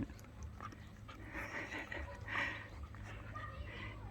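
A tame house guard dog breathes and snuffles close by, with wheezy, chewing-like sounds over a low rumble and a faint voice in the background.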